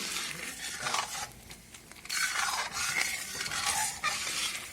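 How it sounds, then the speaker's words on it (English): Broadband hissing and bubbling from white gravy boiling in a pan on the heat, steady with brief dips, with faint scraping like a utensil stirring. "Now it's boiling."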